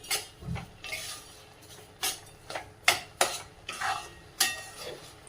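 A spoon scrapes and knocks against a pan while sugar is stirred into reduced carrot halwa, giving sparse sharp clinks and scrapes at irregular intervals, close and fairly quiet.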